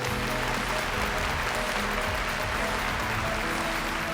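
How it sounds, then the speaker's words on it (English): Steady, dense applause from an audience welcoming Moshe Rappaport of IBM, a continuous loud wash of clapping with faint murmurs underneath, sustained throughout. "give a warm round of applause for Mr. Moshe Rappaport from IBM"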